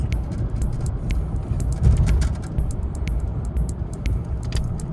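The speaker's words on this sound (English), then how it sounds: "Road noise is acceptable. You hear a little noise from the tires, but the wind noise is pretty good." Cabin noise inside a 2020 Nissan Frontier SV 4x4 crew cab V6 pickup at cruising speed, a steady low road and tire rumble with light wind hiss and small clicks, no talking.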